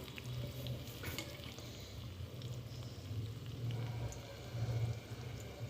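Coriander leaf pakoras fry in hot oil, a steady bubbling sizzle with a low churning hum underneath, fairly quiet and continuous, no voices.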